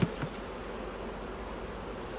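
Honey bees hum steadily at a hive in a queen-rearing colony, a soft continuous buzz with no voices.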